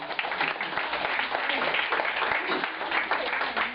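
A crowd applauds steadily, a dense wash of clapping that stays loud and even throughout the short stretch.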